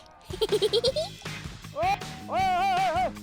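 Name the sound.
flock of sheep bleating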